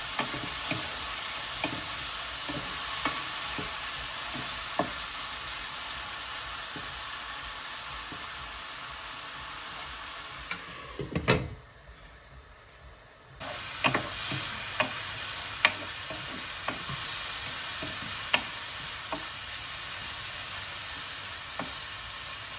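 Mushrooms fry in oil in a pan, giving a steady soft sizzle with small ticking pops and stirring scrapes, briefly dropping away near the middle before resuming, with no talk.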